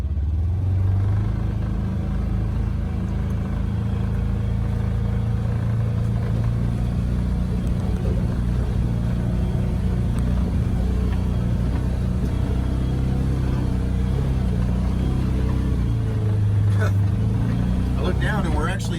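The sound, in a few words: Polaris Ranger XP 1000 engine climbing a hill in low range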